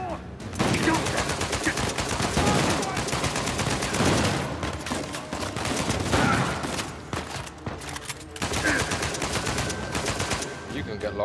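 Sustained automatic gunfire in Uncharted 4: A Thief's End, dense rapid bursts filling the whole stretch, loud and close, with brief gaps and characters' voices mixed in.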